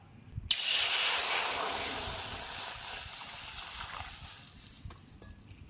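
Water coming to a boil in a wok (kadai), a steady broad hiss and bubbling rush that starts abruptly and holds alone before young jackfruit goes in.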